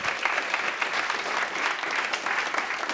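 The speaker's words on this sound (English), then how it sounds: "Let's give the round of applause." Audience at a Berlin meetup giving a steady round of applause, a continuous dense clapping that fills the room at moderate loudness without speech.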